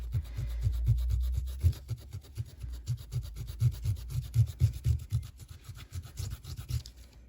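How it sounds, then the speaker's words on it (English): Rhythmic rubbing strokes over a coloured page in a colouring book, a steady back-and-forth scrubbing with a low thumping pulse, close and alone throughout. "just rub over everything where you think you've written"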